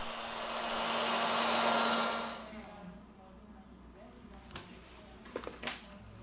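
A heat gun blows steadily on an LG K30 phone to loosen its battery cover, a loud continuous airy roar that cuts off after about two and a half seconds, followed by quiet room tone and a few faint clicks and handling taps.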